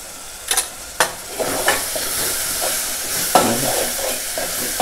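Masala and turmeric sautéed in hot oil in a pan, a steady close sizzle with a few sharp spoon scrapes and knocks against the metal.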